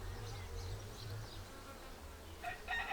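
Honey bees from a swarm caught in a five-frame bait hive buzz in a steady low drone during a hive inspection with no smoke used, the hum close and continuous with a louder swell near the end.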